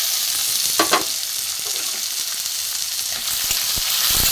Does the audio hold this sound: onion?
yes